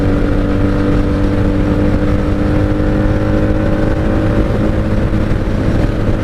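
A 1997 Honda Magna VF750C motorcycle cruising on a highway, its engine a steady loud drone mixed with constant wind rush, held evenly with no pauses and no talking.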